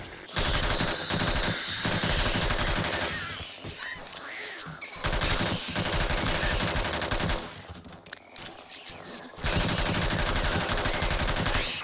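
Sustained automatic gunfire from 7.62 ammo in the 7 Days To Die video game, long loud rattling bursts broken by a few short pauses.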